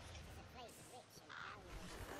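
Raven caws in the fantasy action game Dragon's Dogma: Dark Arisen, a few harsh calls heard over an ongoing game soundscape, with someone talking throughout.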